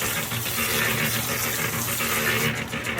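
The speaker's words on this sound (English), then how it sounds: "I'm trying to add some water to make it really watery" Water gushes steadily from a hose into wet concrete mix being prepared for a pool heat pump pad, a continuous, close, rushing pour with no pauses.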